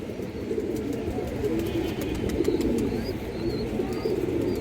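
A pigeon coos repeatedly amid a steady din of other birds and background murmur, the soft rolling calls low and continuous throughout.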